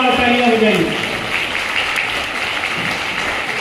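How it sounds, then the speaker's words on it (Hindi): Loud applause fills a hall at a school naat competition, steady dense clapping from a large crowd that follows a voice and settles into a continuous patter. "जोरदार तालियां बजाइए इस शख्स के लिए, जोरदार तालियां बजाइए"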